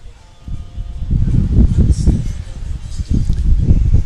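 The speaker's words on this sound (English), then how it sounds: "Fairly windy out here at Smithtown West High School" Wind gusts across an outdoor high school football field, a steady low rumble with buffeting bursts that swell and ease over several seconds, fairly close and loud.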